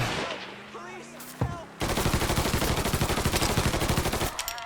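Rapid automatic gunfire in the video game Mafia 3, a sustained burst of loud, evenly spaced shots after a single earlier shot and a few voices, ending abruptly.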